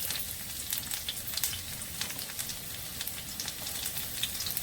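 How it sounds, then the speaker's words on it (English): Cumin and garlic fry in a pan, giving a steady, close hiss with fine crackling pops running the whole time and no talking over it. "I'm going to let it fry and fry until it gets brown"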